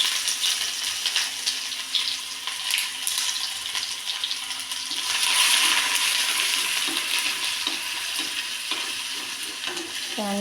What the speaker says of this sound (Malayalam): അത് എണ്ണയിലേക്ക് ഇടാം.